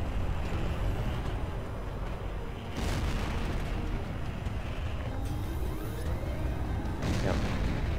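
Cannon fire from a fighter jet in a HAWX 2 dogfight, heavy rumbling bursts over continuous engine roar, with sharper blasts around the third and seventh seconds.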